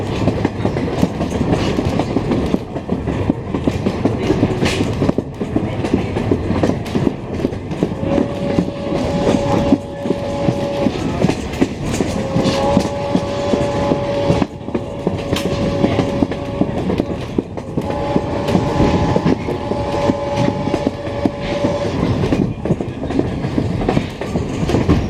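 A Strasburg Railroad heritage train rolls steadily along the tracks with continuous rumbling and clattering, a whistle tone sounding intermittently through the middle.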